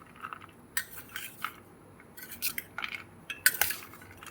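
Chotpoti being mixed in a bowl, with scattered clinks and scrapes of a spoon against the dish in irregular bursts, close and fairly quiet.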